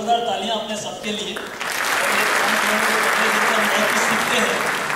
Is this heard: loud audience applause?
yes